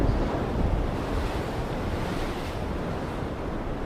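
Rough, stormy sea with churning waves and gusting wind, a continuous dense roar of surf and wind buffeting the microphone throughout, with no voices.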